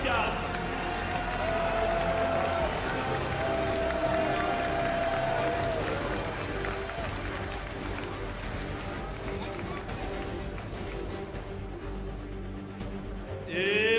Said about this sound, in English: une dernière salve d'applaudissements pour les wildcards